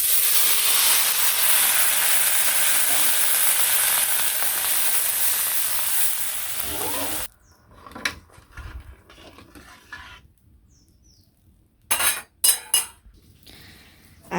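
Broth poured into frying potatoes in a pan in a Bangladeshi village kitchen sets off a loud, steady hiss for about seven seconds that cuts off abruptly, followed by quiet clinks and a few sharp pan knocks.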